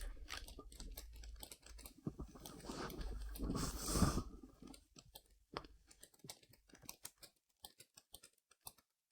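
Fast typing on a computer keyboard during a casual podcast, with dense clicking keystrokes and a brief louder rustle partway through. The taps then thin out into sparse, scattered presses before stopping.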